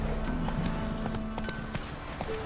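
Hooves of the horse Roach in The Witcher 3 trotting, a rhythmic clip-clop close by over a steady outdoor ambience.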